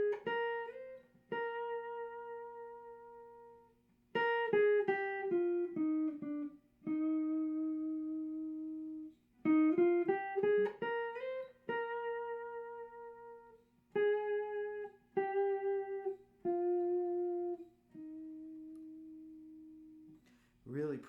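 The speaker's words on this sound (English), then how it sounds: "The first is the classical style, and it sounds like this." A melody played with classical-style vibrato, each sustained note gently wavering in pitch, a clear sequence of separate phrases with short pauses between them, close and clean with no talking.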